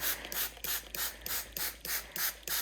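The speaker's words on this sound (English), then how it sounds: "I'm just going to give them a little bit of a spray to settle the top of the soil." Spray bottle misting the surface of seed-starting soil for stock and feverfew seedlings, about eight quick, even hissing squirts in a steady rhythm, close and alone.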